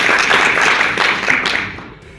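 An audience at WordCamp Nairobi claps for guests from outside Uganda and Kenya, a burst of close, lively hand claps that fades out toward the end.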